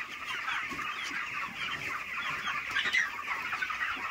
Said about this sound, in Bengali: কত সুন্দর দেখুন মুরগিগুলো